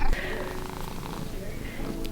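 A house cat purrs steadily and close up in a mountain home, a continuous low rumble, while a person talks over it.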